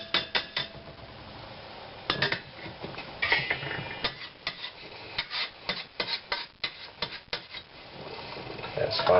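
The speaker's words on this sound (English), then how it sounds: "So I'm going to switch pots so it can just be a little bit easier to cook out of one that has more space in it." Cooking pots are switched and handled with scraping, rubbing and sharp metallic clinks and taps, in irregular bursts at close range. No voice can be heard.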